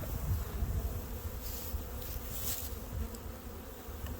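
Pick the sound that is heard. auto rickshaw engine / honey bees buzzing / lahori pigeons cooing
honey bees buzzing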